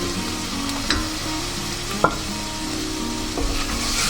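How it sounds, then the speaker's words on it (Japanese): Tomatoes fry in a pan for a Goa prawn curry, giving a steady soft sizzle with occasional small pops and a scrape of stirring, close and continuous with no voices. "トマトもまたピチピチ言うぐらいまで炒めます。"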